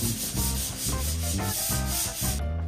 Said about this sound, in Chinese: 然后拿砂纸打磨一下，保持平整。